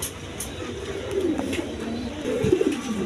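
A pair of pet pigeons in a loft coos in low, rolling calls, swelling toward the end, alone with no talk.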